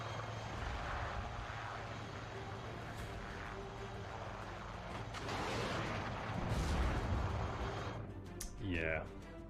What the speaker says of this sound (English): Beautiful helicopters, by the way.